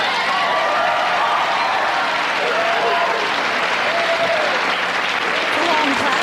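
A live audience at a comedy show breaks into loud, continuous applause, a dense wall of clapping with faint cheering that holds steady throughout.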